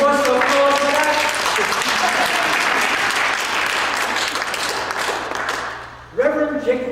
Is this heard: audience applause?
yes